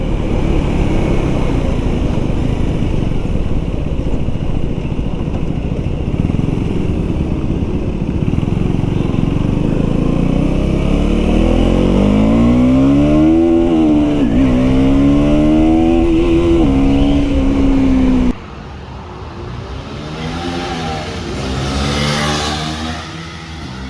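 A KTM Duke 390 Gen 3 motorcycle engine revving loudly and steadily, with repeated rising and falling rev sweeps up toward high RPM, then dropping to a lower, softer idle near the end.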